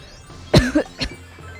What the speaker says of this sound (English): I'm gonna take my sudden inclination to cough my guts out as a sign